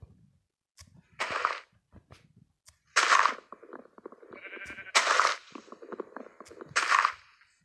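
Sheep in Minecraft give four loud, rough bleats spaced about two seconds apart. Quieter game clicks and thuds fill the gaps between them.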